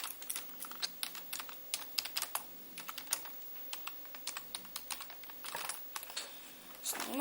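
Rapid clicking keystrokes on a computer keyboard while typing into Minecraft chat, in a steady irregular patter of close, distinct taps with a short pause near the end and no talking.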